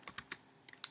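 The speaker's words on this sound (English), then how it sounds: "we're going to go ahead and type in" Fingers tapping out a short burst of keystrokes on a computer keyboard, about six crisp, close clicks in an uneven rhythm with a brief pause midway, no voices.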